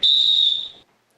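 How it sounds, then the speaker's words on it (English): A single sharp, high, steady whistle blast sounds loud and close for under a second, then cuts off into silence, the pattern used as a site incident alarm at a paint works. "If you hear a series of sharp whistles that sound like this"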